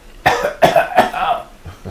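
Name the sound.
cough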